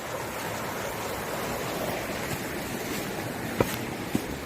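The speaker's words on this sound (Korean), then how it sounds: "아, 물소리" Water flows in a mountain stream on a rainy spring hillside, a soft continuous rushing wash heard alone, with a couple of small close knocks near the end.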